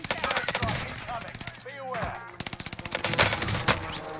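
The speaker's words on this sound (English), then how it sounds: "Taking heavy fire here." Rapid bursts of gunfire in a Warzone firefight, several close automatic volleys cracking in fast rhythm with brief gaps between them, loud and dense against the game's background.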